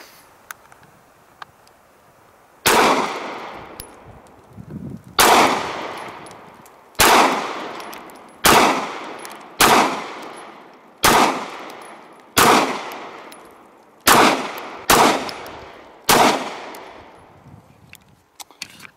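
Ten sharp HK VP9 9mm pistol shots ring out one by one at irregular intervals of roughly one to two seconds, each a loud crack followed by a decaying echo, with no talking.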